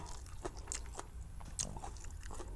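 Soft chewing and crunching of a mouthful of rice with spicy Thai papaya salad, close and faint, in a few irregular bites with no talking.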